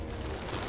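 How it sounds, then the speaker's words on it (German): Pigeons coo in the video game Detroit: Become Human, a brief, steady, fairly loud burst of low cooing with no speech over it. "Hank ist immer noch mit den Tauben beschäftigt"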